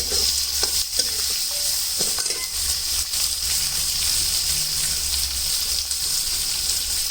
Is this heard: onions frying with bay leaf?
yes